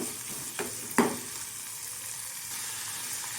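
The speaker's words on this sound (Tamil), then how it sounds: "இப்போது வெங்காயம் ஒரு ரெண்டு நிமிஷம் நல்லா வதங்கட்டும்" Small shallots sauté in a pan for tomato kurma, a steady soft sizzle broken by a few brief spoon scrapes and knocks against the pan.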